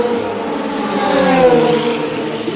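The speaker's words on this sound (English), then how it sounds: "As an LMP2 car pops and crackles its way out of the pit exit, Phil, Chris, Pete and I have come down" An LMP2 prototype race car leaves the pit exit at Le Mans in 2026, its engine a loud, close, steady harmonic drone that swells slightly in the middle, with no distinct pops standing out.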